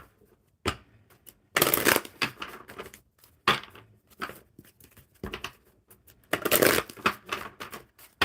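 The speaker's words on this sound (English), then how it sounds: "One more good shuffle." A deck of oracle cards is shuffled in several quick bursts of riffling and patting, close and crisp, with short pauses between rounds.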